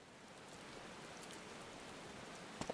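Soft, even rain hiss in the Final Fantasy XIV game world, a faint continuous patter with a couple of brief clicks near the end.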